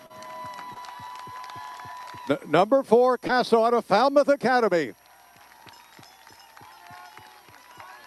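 At a high school track race at the Falmouth Track Festival, a crowd bursts into loud cheering and shouting for a few seconds, rising under an announcer's voice and then dropping back to quieter commentary.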